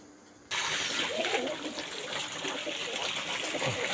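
Water poured out for pigeons to bathe in, a continuous splashing, trickling pour that starts abruptly after a half-second of quiet and runs on steadily up close.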